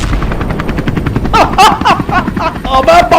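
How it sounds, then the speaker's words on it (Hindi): A helicopter thunders close overhead in a steady, loud rotor chop, with sharper bursts like gunfire layered over the din in the second half. "हेलीकॉप्टर मंडरा रहे हैं।"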